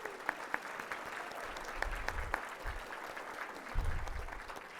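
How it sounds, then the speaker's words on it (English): Audience round of applause at a Legacy of Life feature speaker event, a fairly faint, even patter of many hands clapping across the room with a few sharper individual claps and some low rumbles. "Let's give her a round of applause."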